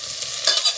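Onions, garlic and mixed vegetables for a three-bean chilli hitting a preheated pan, giving a brief, close, crackling sizzle with a small stirring scrape midway and no talking.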